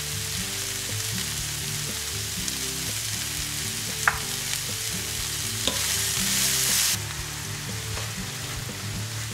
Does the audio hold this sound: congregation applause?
no